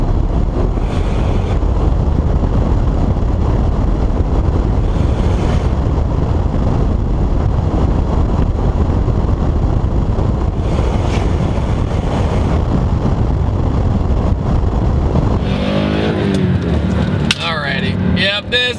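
Turbocharged Subaru Legacy GT 2.5 spec.B, tuned to about 400 hp, pulls hard through second gear; a steady loud engine drone with wind and road roar fills the cabin throughout, ending with a brief shift change.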